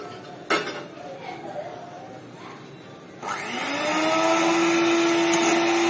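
A kitchen blender whirs up after a clink of dishes, mixing dry fruit cake batter; the motor starts abruptly partway through and runs loud and steady to the end, with a rising pitch as it settles.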